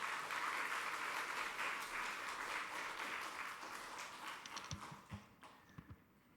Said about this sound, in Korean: 큰 박수로 환영하겠습니다